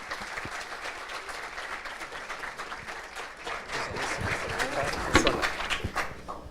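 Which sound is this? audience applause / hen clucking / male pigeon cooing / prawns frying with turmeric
audience applause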